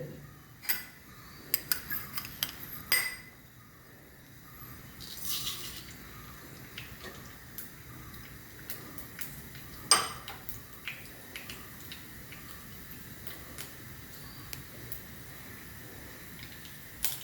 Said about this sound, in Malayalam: കടുക് പൊട്ടിത്തുടങ്ങി